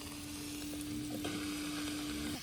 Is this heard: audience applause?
no